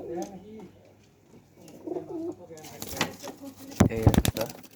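A black-necked pigeon coos in low rolling calls up close, followed by louder handling thumps and rustling, with a voice faintly in the background.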